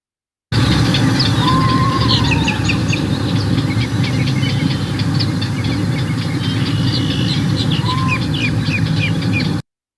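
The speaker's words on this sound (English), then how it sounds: "listen to what the eastern screech owl sounds like" An eastern screech owl calls with a high, wavering trill over loud, constant background noise like traffic or a train, heard faintly and partly masked alongside scattered bird chirps.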